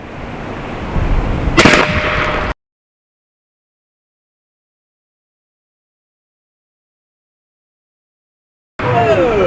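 An AEA Zeus .72 caliber air rifle fires a single sharp, loud crack at a concrete house foundation block outdoors, with background noise before it and a long stretch of silence after.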